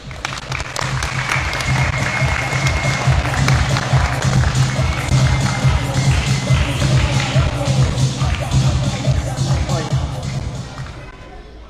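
Dense crowd applause for the mayor, Amada Zambrano Rodríguez, at the inauguration of the municipal basketball school; loud, steady clapping fills the whole stretch with a low rumble and murmur beneath.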